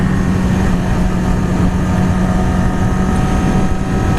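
A Yamaha R6 sport motorcycle being ridden gives a steady, loud engine drone with a constant low hum and wind rush, close to the rider and without talk.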